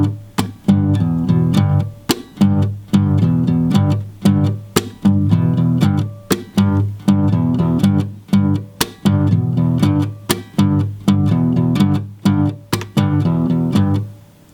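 An electric guitar plays the repeating intro riff of a song, loud and close, with crisp rhythmic strums and short pauses cycling through the pattern several times.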